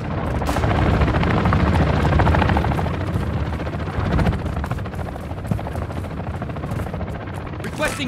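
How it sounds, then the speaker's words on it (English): A cargo helicopter arrives in Call of Duty: Modern Warfare II, its rotor thumping as a loud, dense roar that fades slightly over several seconds, with sharp crackling bursts cutting through now and then. "Cargo helo is inbound."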